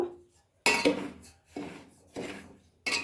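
A spoon scrapes and knocks against a pan as semolina (rava) is roasted in oil for vegetable uppittu, with three or four distinct scraping strokes separated by short pauses. No one speaks.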